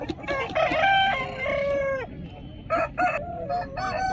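A Kakinemali-breed rooster crows at a Nallapadu hen market near Guntur, two long loud crows with shorter clucks and other fowl calling in the busy background, no talk.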